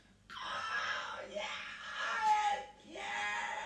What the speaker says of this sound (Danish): I det samme lød der et skrig.